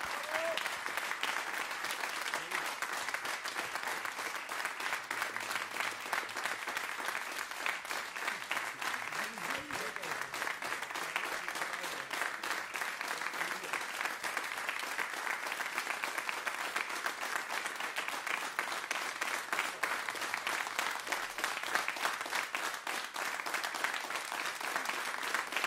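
Sustained applause from a jazz concert audience, steady dense clapping that stays at an even level throughout, with faint voices mixed into the crowd.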